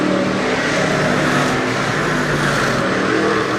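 Race cars roaring around Weedsport Speedway during the SummerFAST opener, a loud continuous engine drone with a steady wash of motor noise as cars wind up off turn four, no voices over it.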